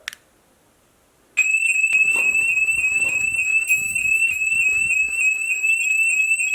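After a brief click and silence, a loud electronic house fire alarm starts and keeps shrieking in a piercing, warbling, continuous tone.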